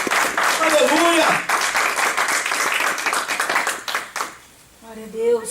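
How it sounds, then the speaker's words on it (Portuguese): Church congregation applauding during a sermon, dense clapping loud and sustained under a preacher's voice, then tapering off near the end as talk resumes. "Dá salva de palmas ao Senhor"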